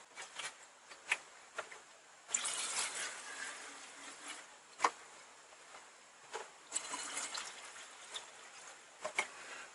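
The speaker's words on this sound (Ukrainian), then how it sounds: "Так, ну і заляю бензин." Petrol poured into the fuel tank of a Forte chainsaw that is leaking fuel, a faint close trickle and gurgle of liquid with small clicks and knocks of the can and cap scattered throughout.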